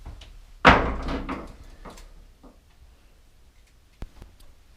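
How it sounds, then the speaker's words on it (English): Cabinet door fitted with a ball catch latch swings shut with a sharp close and click, followed by a faint rattle and a second small tick a few seconds later. "this should lock in there much better this time"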